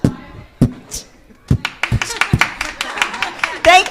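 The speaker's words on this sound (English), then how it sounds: "Let's give another round of applause." Scattered, uneven claps from a small audience at a networking event, a few sharp close hand strikes followed by a quicker patter, with a voice speaking over them.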